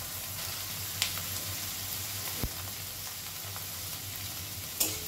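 Grated carrot fries in a pan with a steady, even sizzle and a low hum beneath, broken by a few faint clinks, close and continuous without speech.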